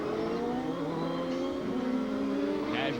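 Champ Car open-wheel race cars accelerate at Mont Tremblant, with several high-pitched engine notes rising and overlapping as drivers work the throttle, loud and steady throughout with no voices.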